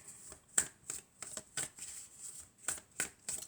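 Tarot cards shuffled by hand in a run of crisp, papery riffles and flicks, close and fairly quiet, with short pauses between bursts and no talking.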